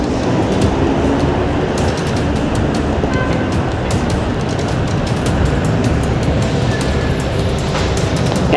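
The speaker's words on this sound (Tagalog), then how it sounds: "Yung nilalagay sa rail track ng MRT at LRT, ballast trucks." A ballast train rolls along an MRT/LRT rail track, a loud continuous rumble with scattered metallic clicks and squeals throughout, heard close by with no talking.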